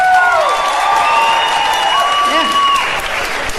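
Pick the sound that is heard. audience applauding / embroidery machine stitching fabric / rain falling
audience applauding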